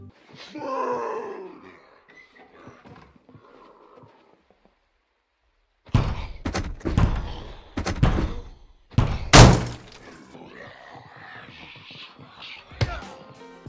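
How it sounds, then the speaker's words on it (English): Hard knocks on a door in the survival game SCUM, then a heavy door slam. A quiet stretch comes first, followed by several loud, close thuds and one sharp, booming impact. "you hear some hard knocking on the door and maybe a nice hard slam when the puppets open the door"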